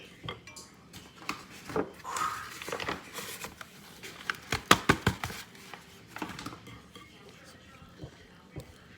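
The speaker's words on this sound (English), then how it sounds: "Just keep stirring it around, get this all mixed up." Metal spoon stirring beef stew in a cast iron Dutch oven, irregular scraping clinks and knocks against the pot, louder clatters in the middle, with a person talking intermittently.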